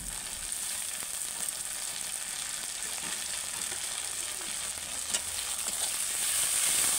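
Tomato going into onions already fried in a wok, a steady close sizzle and frying hiss running throughout without pause, swelling slightly louder toward the end, with no one speaking.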